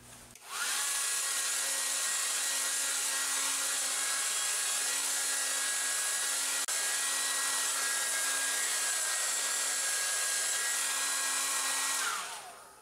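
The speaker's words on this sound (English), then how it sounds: "I'm gonna use the hair dryer again" A hair dryer blows steadily over a watercolor cityscape painting to dry it, switching on with a rise and holding a constant whirring hum with a faint tonal whine for about twelve seconds before cutting off.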